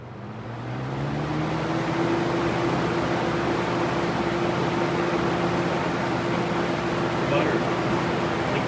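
A Lasko fan fitted with an RMR motor runs with a steady broadband whoosh and a faint tonal hum whose pitch drifts gently as it spins down, loud and close, with no talking over it.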